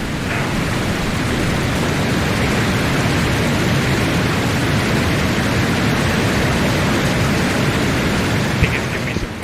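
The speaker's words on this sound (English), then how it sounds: "It's so loud, that waterfall." A loud waterfall in the video game Dragon Age Inquisition roars as a dense, steady wash of rushing water. It holds constant and fills the whole stretch, with no speech over it.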